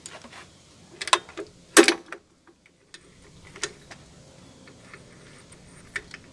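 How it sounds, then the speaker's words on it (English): Wrench work on the belt tensioner in a Jeep XJ engine bay: a few sharp metallic clicks and ratcheting ticks, scattered irregularly with quiet gaps, close by and moderately loud. "just gonna back that off a bit, and then we'll loosen up the tensioner"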